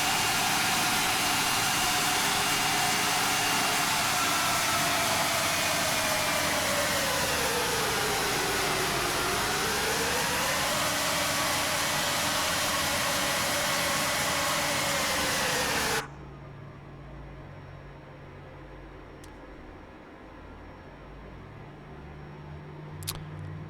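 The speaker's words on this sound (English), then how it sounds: "Little test sound here of the engine so y'all can hear what those sound like." An Embraer 170/175 jet engine in the MSFS2020 flight simulator, a loud steady roaring whine that dips in pitch midway, then cuts off abruptly to a faint cabin hum with a couple of small clicks.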